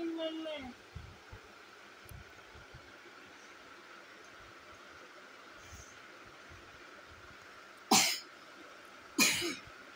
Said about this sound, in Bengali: ভাইয়ের কাশি হয়েছে।